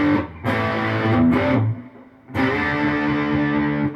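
Distorted electric guitar through the bridge pickup of a PRS SE with upgraded parts, loud chords struck and ringing, a brief gap, then another sustained chord fading out.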